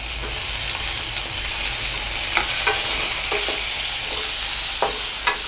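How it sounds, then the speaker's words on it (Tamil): Tomatoes and small shallots sauté in a pan for moong dal sambar, giving a steady loud sizzle with occasional scraping stirs, and no one speaks. "இப்போ இது கூட வந்து நம்ம தக்காளி, கொஞ்சமாக அந்த சின்ன வெங்காயத்தையும் நம்ம போட்டு வதக்கிக்கலாம்."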